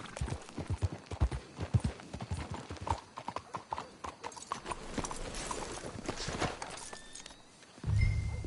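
Horse hooves clip-clop steadily on ground in Red Dead Redemption 2 as riders approach to hitch their horses, several animals walking in uneven rhythm, close and fairly loud, a whinny and thud near the end, no talk.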